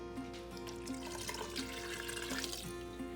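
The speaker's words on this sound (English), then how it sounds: "So I'm gonna add this water in." Water pours into a pressure cooker holding lentils, a steady splashing and gurgling stream, close and continuous.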